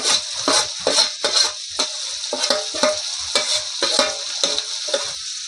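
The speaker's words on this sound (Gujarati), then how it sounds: "ને હવે આપણે હલાવી નાખશું ઓળો થઈ જાય તૈયાર" Roasted eggplant olo with coriander is stirred in a sizzling pan, with quick, rhythmic scraping strokes of a spoon over a constant hiss of frying, close up and with no voices.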